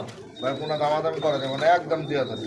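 American Lakha pigeons coo in soft rolling bursts at a crowded pigeon market, heard close up while people talk over them.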